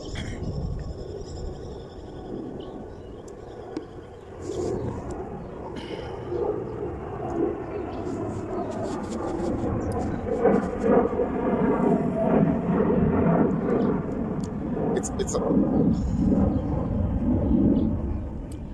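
An airplane flies overhead, a rumbling drone that swells gradually and stays loud and broad for several seconds, with faint voices in the background.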